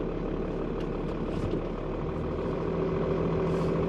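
A 1995 Dodge Ram 2500 4x4 diesel truck idles steadily on a gravel lot, a deep continuous low rumble with a faint hiss above it and no talking.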